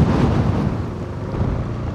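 Heavy typhoon gusts blast across the microphone during Typhoon Tino, a deep, loud rumbling roar that surges at the start and then rolls on steadily, with no voices.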